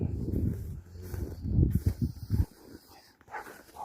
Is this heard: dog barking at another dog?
yes